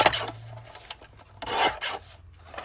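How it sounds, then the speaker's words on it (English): Cardstock is trimmed down for a handmade card with a paper trimmer, giving close, dry rasping slides in two or three strokes. "So we'll just go ahead and trim this down."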